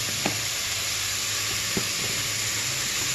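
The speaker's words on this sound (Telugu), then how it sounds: "ఒక 2 నిమిషాల సేపు దాకా ఈ విధంగా ఆయిల్లో వేగనివ్వాలి." Ginger garlic paste fries steadily in hot oil for chicken dum biryani, a continuous close sizzle with a couple of soft clicks from stirring.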